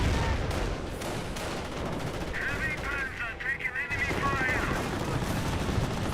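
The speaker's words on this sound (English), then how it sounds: "Got some AT gun shots there, bounces." Anti-tank gun shots amid a dense battle in Company of Heroes, heavy booms and rattling fire blending into a constant loud din with a metallic ringing ricochet partway through.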